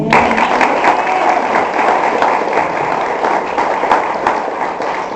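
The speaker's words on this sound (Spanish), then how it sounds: "Denle un aplauso al Señor." Loud, sustained applause from a large church congregation, dense clapping that holds steady throughout with no talking over it.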